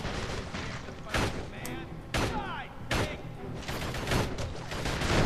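Enemy gunfire in the video game Urban Chaos: Riot Response crackles in several loud bursts over a dense, busy game soundscape, sharp shots standing out against continuous background noise.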